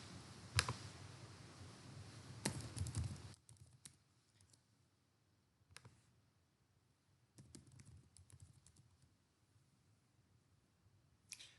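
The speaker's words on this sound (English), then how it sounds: "if I type localhost" Typing on a computer keyboard in a quiet room, with short bursts of soft clicking keystrokes separated by pauses, close and faint with no talking.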